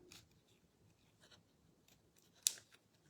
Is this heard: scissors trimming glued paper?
yes